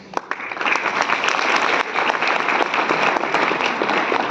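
A conference audience breaks into applause after a tribute to the police, with dense continuous clapping that swells quickly and holds loud and steady to the end.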